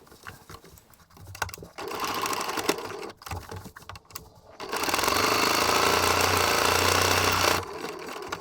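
A sewing machine stitches around a front placket on a family cruise outfit in bursts of fast mechanical whirring, pausing briefly between runs before a long steady stretch of stitching.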